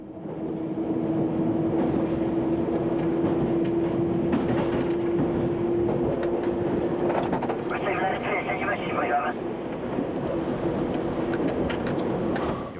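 A London Underground Bakerloo Line train running on rails near Edgware Road gives a steady loud rumble with some clickety-clack, under a drawn-out tone, while people talk over a radio.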